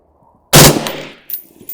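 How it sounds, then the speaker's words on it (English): A rifle bump-fires three rapid rounds of SIG 40 grain varmint ammunition: a loud, close burst of shots that merge together, then an echoing tail and one fainter later report. "And there goes all 3 rounds of it, because this gun just loves to bump fire."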